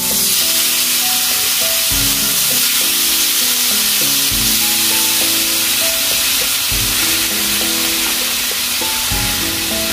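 Chicken satay grills with a loud, constant sizzle and hiss, close up, while faint background music tones play underneath, no voices.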